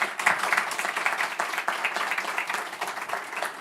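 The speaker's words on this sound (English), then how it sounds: "Please, a round of applause for Peter." An audience claps for a speaker after a talk on minerals for electric mobility, a steady, moderately distant round of applause that carries on for several seconds.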